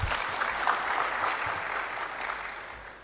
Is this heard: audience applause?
yes